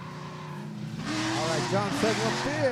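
A magenta-purple Corvette and a silver-and-red Mustang drift in tandem at a Drifting the Plains event, engines roaring and tires squealing in rising and falling chirps, with a commentator talking over them.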